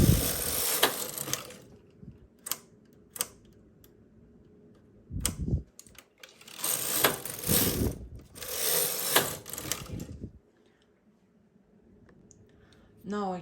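Bursts of mechanical clicking and sliding clatter as needles are pushed back on a knitting machine, coming in several uneven clusters with quiet gaps between, close and moderately loud.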